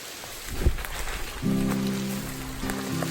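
Heavy rain patters steadily in the Hickory Creek Wilderness, a close hiss of drops on surfaces with a sharp knock early on and a low droning hum joining partway through.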